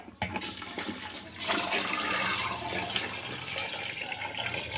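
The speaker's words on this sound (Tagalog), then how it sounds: "Lagyan na tayo ng tubig." Water gushes and splashes steadily into a pot while making ice candy, a loud continuous rushing pour that starts abruptly and keeps going.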